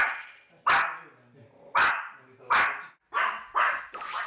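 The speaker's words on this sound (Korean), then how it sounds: "일정 거리를 두고 계속 설쌤을 쫓아다니며 짖는 제니" An anxious dog barks repeatedly while following a trainer indoors, a series of about six sharp, loud barks at uneven intervals with whimpering tones between them.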